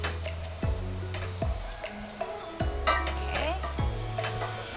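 Thai pumpkin soup paste being stirred in oil in a pot: a soft sizzle under repeated knocking and scraping of a utensil against the pot, about four distinct strokes.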